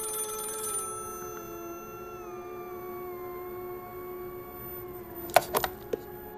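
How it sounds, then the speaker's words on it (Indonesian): A telephone ringing on and on, its steady electronic bell tone sounding alone in a quiet room, with a few brief clicks and clacks near the end. "Tak kubedalikan lagi suara telepon yang terus-menerus berdering."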